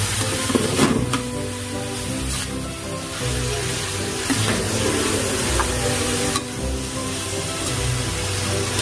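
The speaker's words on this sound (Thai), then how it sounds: "ใส่น้ำลงไปนะคะ" Water pouring into a cooking pot for Korean jjamppong noodle soup, a steady hissing, splashing stream running for several seconds with a few small clinks, close and fairly loud, no talking.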